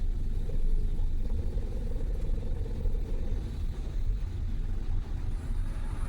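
Continuous deep engine and road rumble from inside a Studebaker car cruising at about 2,000 RPM and 70 mph, steady and even with no voices.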